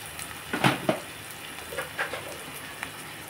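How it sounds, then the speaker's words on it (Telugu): Sliced onions and green chillies dropped into hot oil in a home kitchen, sizzling and crackling with a few sharp bursts early on, then settling into a quieter steady fry with occasional pops, close and clear, no talking. "ఇదిగోండి ఆయిల్ హీట్ ఎక్కింది. ఉల్లిపాయలు పచ్చిమిరపకాయలు వేసేస్తున్నాను."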